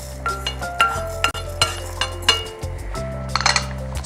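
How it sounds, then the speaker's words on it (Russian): Cashews and sesame seeds clatter and tinkle into a glass blender jar, a series of quick clinks and rattles close by. "Для этого мы высыпем их в блендер."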